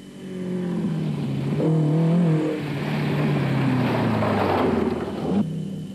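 Race cars, faster specials and production cars, at the Rustenburg 200 endurance race in 2007, streak past on a straight, their engine tones rising and falling loudly and continuously as they go by, with no talk.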